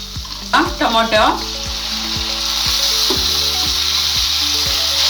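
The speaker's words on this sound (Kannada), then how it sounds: "ಟೊಮೊಟೊನ ಚೆನ್ನಾಗಿ ಮ್ಯಾಶ್ ಆಗಬೇಕು, ಅಲ್ಲಿವರೆಗೂ ಚೆನ್ನಾಗಿ ಫ್ರೈ ಮಾಡಿ" Onion and tomato masala for a bendi (okra) egg masala sizzles steadily in a pan, with a burst of stirring scrapes early on and regular spoon knocks against the pan throughout, with no voices.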